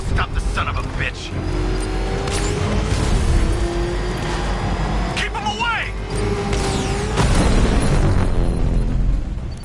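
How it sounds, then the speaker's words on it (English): A rocket launch explosion in the video game Batman Arkham Knight, a loud sustained roaring blast with mechanical rumble, heard amid continuous game sound and dialogue. "Rocket launch!"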